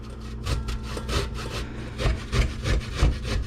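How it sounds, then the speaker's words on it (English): Fresh ginger is rubbed over the small teeth of a metal box grater in quick rhythmic rasping strokes, close and fairly loud, with no talking. "everybody's getting grated over the box grater. On the small grated edge."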